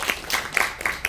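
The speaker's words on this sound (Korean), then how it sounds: "박수 부탁드리겠습니다." Audience applause after a lecture, a brief burst of scattered claps from a crowd in a hall, fairly soft and uneven.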